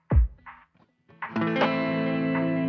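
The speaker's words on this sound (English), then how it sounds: "So what you're hearing right now is just the delay" Sparse plucked guitar notes ring out, followed by a sustained chord whose repeats echo and trail off with a delay effect from a Boss GT-1000 Core placed after the amp.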